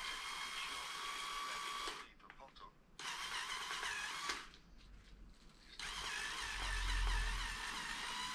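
A power screwdriver removes the screws that hold the motor onto the plastic housing of an old microwave, making short whirring bursts separated by pauses, with a person talking nearby.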